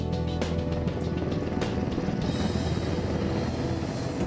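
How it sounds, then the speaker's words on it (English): Heavy thudding of helicopter rotors, a loud continuous churn with rhythmic chopping beats close by. "the noise made by its rotors"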